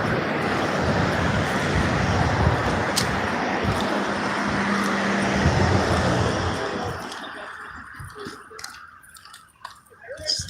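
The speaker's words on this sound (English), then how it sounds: "You gotta wait till these trucks go past." Large trucks roar past up close on a road, a loud broad rumbling wash for about seven seconds that then drops away abruptly to quieter roadside noise.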